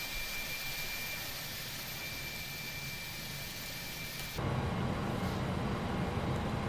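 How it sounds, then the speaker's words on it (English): Jet engines of an iniBuilds A310 airliner starting up in the X-Plane flight simulator, a steady broadband whoosh and whine that jumps to a louder, deeper roar partway through as the engines spool. "pushback, and you may start engines"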